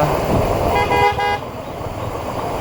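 A car horn sounds in a crowded market street during festival season, giving one sustained honk of just over half a second amid steady traffic and street noise.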